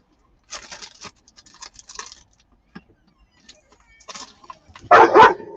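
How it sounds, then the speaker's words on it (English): An agitated small dog barks indoors in a home, with scattered faint yips and scuffling followed by a burst of loud, close barks near the end. "That makes him bark more."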